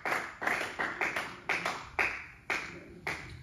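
A church congregation applauds in a slow, steady rhythm, each clap sharp and ringing with room echo, roughly two per second over a few seconds, with no voices.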